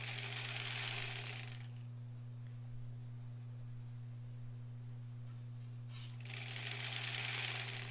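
A sewing machine stitches quilt strips for a granny squares quilt in a steady whirring run. It stops for a few seconds and then starts again, with a constant low electrical hum underneath.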